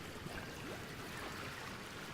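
Water flooding a base in Oxygen Not Included, heard as a continuous faint rushing, trickling wash with no distinct breaks and no voices.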